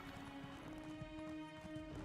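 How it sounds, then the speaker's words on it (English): Hooves of a summoned horse clip-clopping in the game Elder Scrolls Online, a faint, rapid patter of steps over ambient game sound in the land of Vvardenfell, with no talking. "let's summon our little horse"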